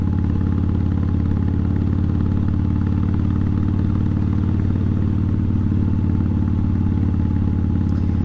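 A Harley-Davidson Sport Glide motorcycle engine drones steadily while riding, with a deep, continuous low rumble and some mechanical clatter. It stays loud and even throughout, with no speech.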